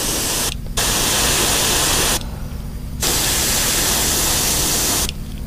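An airbrush at 15 psi sprays paint onto a cicada popper fishing lure in steady hissing bursts, three long sprays broken by short pauses, close and loud with no talking.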